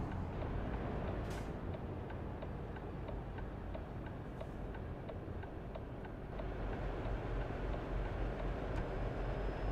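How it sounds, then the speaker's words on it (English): Train rumbling in Euro Truck Simulator 2 on the Ile de France map, a steady dense low drone with faint regular ticking over it, no talk. "That's a train, but is it actually moving?"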